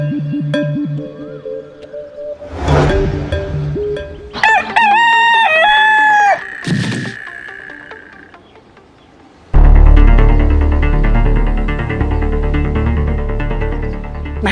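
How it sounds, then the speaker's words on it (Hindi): A rooster crows loudly and close, its long rising call standing out, with other sounds before it and dense, busy noise taking over the second half. "हमको तो लगता है कहीं असली मुर्गा कुकड़ू कर रहा है अभी"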